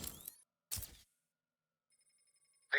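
In Batman: Arkham City, a payphone's bell rings in two short bursts separated by silence, followed by a faint buzzing tone and a brief closing sound.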